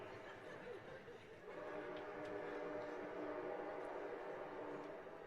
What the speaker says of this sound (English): I'm going to wait till the train goes by.